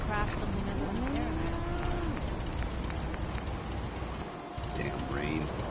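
Steady rain in Fallout 4 makes a dense, constant wash of noise throughout, with low drawn-out animal lowing calls rising and falling over it and a voice in the background.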